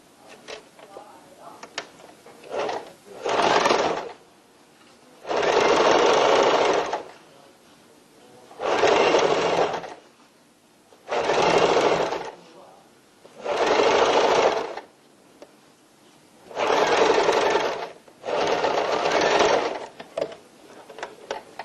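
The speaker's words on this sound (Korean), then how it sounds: "주머니에 바이어스 1차 박음질 하겠습니다." A sewing machine sews bias binding onto a tote bag pocket in seven short bursts of fast stitching, each a couple of seconds long, separated by pauses with faint handling noises.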